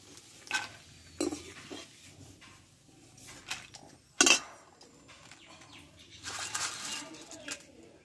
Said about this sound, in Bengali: চিপসগুলো ভাজা হয়ে গেছে, এবার তুলে নেব।